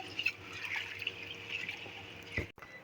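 Red lentils (masoor dal) are washed by hand in water in a kitchen, with quiet sloshing, trickling and dripping sounds and one brief clunk near the end.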